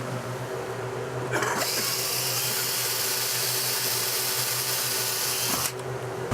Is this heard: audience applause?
no